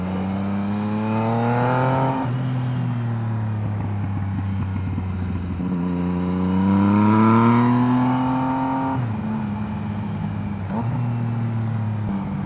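A 2018 Honda CB1000R and a Yamaha XSR 900 ride twisty roads, their engines droning loud and close, rising and falling in pitch through repeated gear changes and throttle swells.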